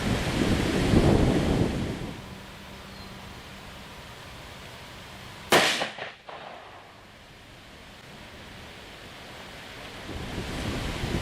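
A Ruger American 5.56 rifle fires a single Fiocchi .223 50-grain VMAX round into Masonite outdoors, one sharp, loud crack with a short decaying tail, set against steady wind and breezy background noise.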